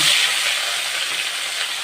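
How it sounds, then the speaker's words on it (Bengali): Fish frying in hot oil, the same oil used just before for lentil dumplings: a steady, close broadband sizzle that holds evenly throughout with no talk. "একই তেলে আমি এখন মাছগুলো ভেজে নেব"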